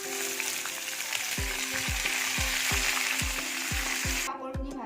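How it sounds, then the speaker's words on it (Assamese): Tomato, garlic, dried chili and ginger fry in refined oil with a steady close sizzle, while repeated regular knocks, like a spatula striking the pan, sound alongside it. "Refine the ভাজিম।"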